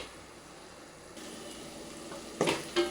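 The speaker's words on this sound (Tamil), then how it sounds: "நம்ம போட்ட எல்லா பொடியும் வந்து நல்லா எண்ணெயில் வதங்கிடுச்சு" Spice powders sautéing in oil for a Tamil egg-and-mushroom curry, a soft, steady sizzle close by that swells into louder bursts of frying and stirring near the end, with no talk.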